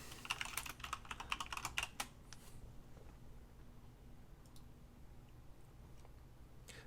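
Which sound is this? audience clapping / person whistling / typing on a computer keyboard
typing on a computer keyboard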